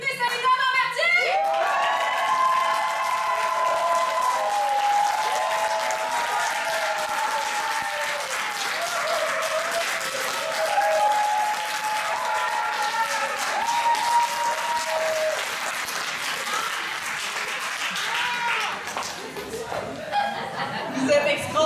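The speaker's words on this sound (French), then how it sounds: "qui applaudissez ou qui lèvent les bras en l'air" Crowd at a Québec solidaire candidate nomination rally in Berthier, April 2022, applauding and cheering steadily for about twenty seconds, with whoops, shouts and laughter mixed into the dense clapping.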